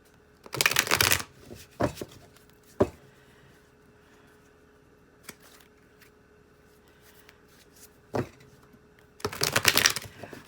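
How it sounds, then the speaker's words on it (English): Tarot cards are shuffled in a few quick riffling bursts, loud and close, separated by soft single taps and a quiet pause, with no talking. "Wow, the cards are flying"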